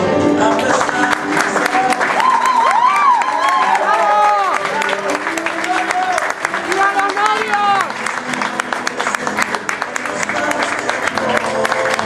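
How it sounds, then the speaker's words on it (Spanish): Wedding guests applaud and cheer, a dense, continuous wash of clapping with excited voices and shouts rising over it near the start, carrying on strongly for about twelve seconds. "Un aplauso."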